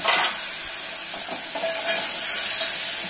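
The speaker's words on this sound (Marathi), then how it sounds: "त्याच्यात कसं वरण थोडंसं 1 पळी भरूनच टाकायचं आणि लगेच टाकायचं, म्हणजे कसं फोडणी उडणार नाही" A ladleful of cooked mung dal hits a hot garlic tempering in a pan, giving a steady, loud broadband sizzle and hiss that holds for the whole few seconds, close up, with faint stirring scrapes and no talking.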